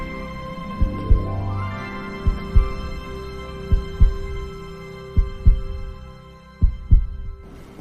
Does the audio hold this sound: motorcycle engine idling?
no